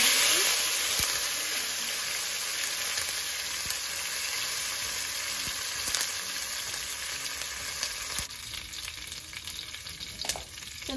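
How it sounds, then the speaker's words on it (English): Cumin seeds and curry leaves fry in hot oil in a gravy pan, giving a steady, dense sizzle that runs loud and close throughout, with a few brief crackles and spits near the end. "I keep the pan for the gravy and put the oil. Now I'm gonna put the jeera, cumin seeds,"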